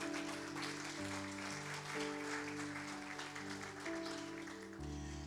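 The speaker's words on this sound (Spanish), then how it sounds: "Si usted va a aplaudirle, apláudale de verdad" A church congregation claps together through a sermon, a thick, steady patter of applause over sustained keyboard chords that shift every second or so, heard at a fairly low level.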